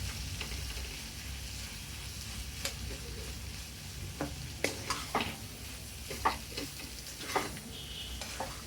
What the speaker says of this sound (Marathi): आणि हे सारण आपल्याला अगदी छान परतून घ्यायचंय